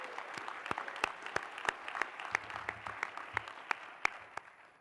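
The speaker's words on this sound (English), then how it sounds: "So a round of applause for them." A crowd applauds at a closing remarks event, a steady dense patter of many hands with a few sharper individual claps standing out, heard at moderate distance and fairly faint.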